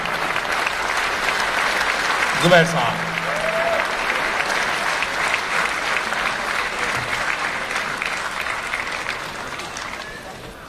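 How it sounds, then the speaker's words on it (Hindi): Sustained audience applause at a mushaira welcoming a poet, a dense crowd clapping that holds steady for several seconds and slowly tapers, with a voice briefly calling out over it. "ज्यादा जोश के साथ आप उन्हें तालियां बजाकर उनका स्वागत करें"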